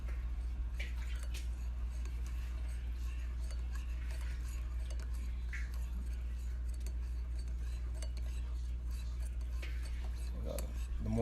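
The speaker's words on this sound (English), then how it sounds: "Make sure you stir really well." A spoon stirs a thick honey apple cider vinaigrette in a glass or bowl, giving soft, faint clinks and squishy scraping over a steady low hum.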